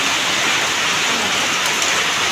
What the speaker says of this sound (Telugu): చాలా గట్టిగా వర్షం వస్తుంది